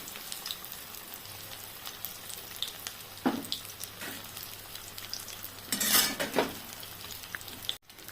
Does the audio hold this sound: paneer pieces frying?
yes